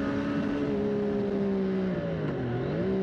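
A Triumph Street Triple 765 RS motorcycle engine revs with a loud, close, sustained drone whose pitch dips and climbs again near the end, with no voices.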